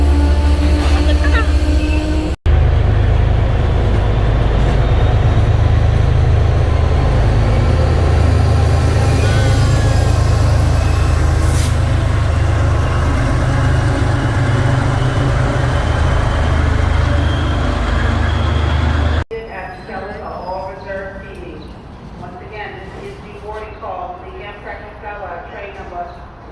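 Loud, steady low rumble of a train to Boston running, with rail noise throughout, quieting toward the end as it settles.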